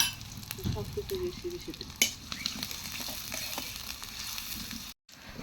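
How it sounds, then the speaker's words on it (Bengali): Onions frying in a pan for a home curry, a close continuous sizzle with stirring scrapes and a sharp clink, while a voice speaks briefly over it. "পেঁয়াজটা একদম ভালো করে লাল লাল করে ভেজে নিবে"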